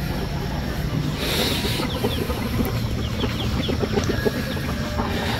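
Hens cluck steadily in a farmyard, with short repeated calls over a dense, noisy background rumble; no crowing stands out.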